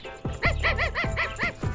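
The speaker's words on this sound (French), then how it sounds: "Allez, Toutou, allez, mon chien. Je sais que tu es par là." A dog barks in a quick series of about five sharp, evenly spaced barks, close and fairly loud with nothing else over them.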